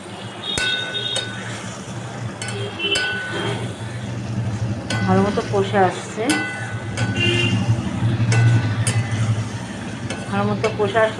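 Gandharaj paneer curry sautéing in a pan, with a utensil stirring and clinking against the metal under a low steady sizzle; a voice talks over it at times.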